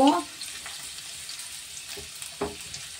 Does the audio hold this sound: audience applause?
no